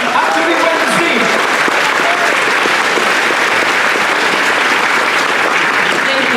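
Loud, dense applause from a convention audience fills the hall for a newly announced Awareness and Inclusion department, a steady wash of many hands clapping close and sustained throughout.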